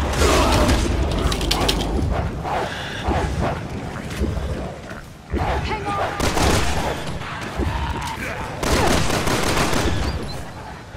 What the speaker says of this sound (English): I think I should probably use my gun.